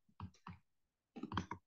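Computer mouse clicks while working in GIS software, a few sharp close clicks in quick succession, then a pause and another cluster of clicks, alone in a quiet room.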